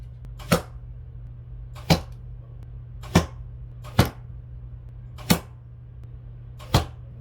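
Arrows shot from a bow strike a target downrange, six sharp, evenly spaced impacts over a low steady hum, each a crisp thwack standing out clearly.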